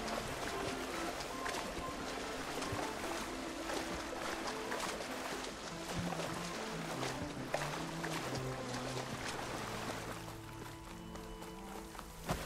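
A character wades and splashes through water in Horizon Forbidden West, with steady sloshing footsteps over a soft in-game musical backdrop for about twelve seconds.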